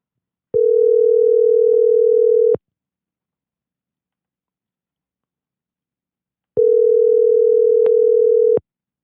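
A telephone line rings out twice while a podcast guest is being called, each loud, steady tone burst lasting about two seconds and separated by several seconds of silence.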